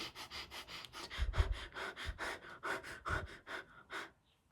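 A person imitates the rapid, shallow breathing of someone in an anxiety crisis, producing about a dozen quick, evenly spaced breaths that are loud and close with no speech.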